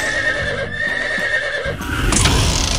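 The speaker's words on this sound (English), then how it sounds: "Horse." A horse neighs in a loud, wavering whinny lasting about two seconds, followed by a brighter, breathy burst at the end, heard alone with no talking.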